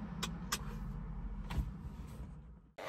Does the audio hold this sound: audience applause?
no